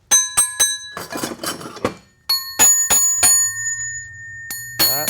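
A metal drum part with a splined shaft, struck repeatedly, rings out like a dinner bell: a series of sharp, bright clangs with lingering metallic tones, loud and close, with no talk.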